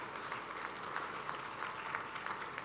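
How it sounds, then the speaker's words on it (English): An audience at a graduation ceremony gives a round of applause for medical college patrons, a dense, even clapping heard from across the hall with no voices on top. "One round of applause to the patrons who dream of starting medical colleges."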